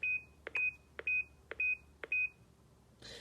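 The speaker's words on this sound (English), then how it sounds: "we're going to hold it down, and we're going to hear a few beeps" A driveway alarm receiver gives five short electronic beeps in an even rhythm while being reset, each preceded by a faint click, ending with a brief rustle.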